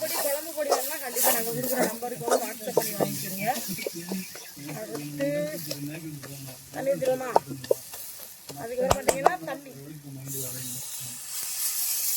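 Tomato and onion sautéing in a pan for seer fish (vanjaram) dried fish thokku, a soft steady sizzle with occasional stirring, mostly under a person talking throughout.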